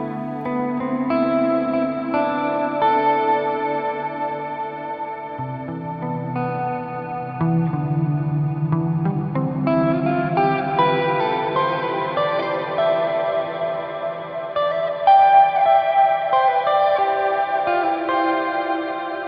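Sustained, shimmering chord tones from a Meris MercuryX reverb pedal's Deep Blue preset, drenched in reverb with a chorus wobble and trailing echoes, the layered harmonics swelling and shifting steadily throughout.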